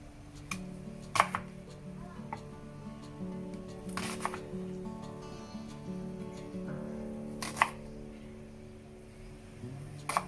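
A knife cuts food in half on a board in a few sharp, spaced chops, with quieter scraping and soft handling sounds between them.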